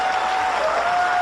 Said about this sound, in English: Applaud any time you want.